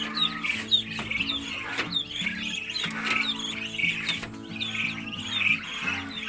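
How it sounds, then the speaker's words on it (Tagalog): Duck chicks on a backyard poultry farm chirp continuously in a busy overlapping chorus of high peeps, close by, over a low steady hum. "So dito, ayan yung mga sisiw ng bibi natin."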